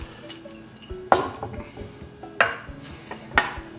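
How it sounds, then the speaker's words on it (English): Celery and garlic are muddled in vodka in a glass, with three sharp clinking knocks of the muddler against the glass over soft scraping and tapping, close and distinct. "And then you just muddle that to infuse the vodka with the celery and the garlic and get all those nice flavors out of there."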